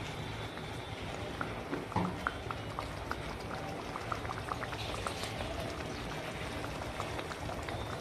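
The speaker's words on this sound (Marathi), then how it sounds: "आता आपण आपल्या गरजेप्रमाणे त्यामध्ये पाणी टाकू" Water goes into a pot of chickpea curry (chole masala), a faint, steady liquid bubbling and pouring texture with soft irregular ticks, heard close and alone.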